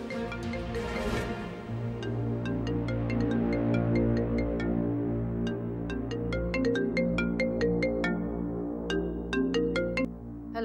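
A mobile phone ringtone plays a repeating melodic tune for about ten seconds, steady and moderately loud with no talking, set in a Pakistani TV drama scene.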